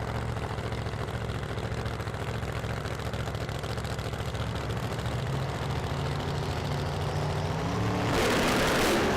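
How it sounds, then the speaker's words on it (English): A Bentley's engine idling steadily at a Las Vegas drag strip, a low continuous rumble that holds evenly, then a louder broadband roar swells in near the end. "Tony pulling up over there in the Bentley"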